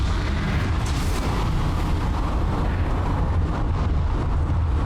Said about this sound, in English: We're gonna watch the explosion.